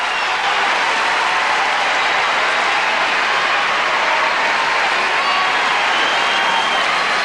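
Sustained, dense applause from an enthusiastic centre court crowd at a 1992 Wimbledon women's tennis match, Sabatini against Capriati, a steady loud wash of clapping with no break.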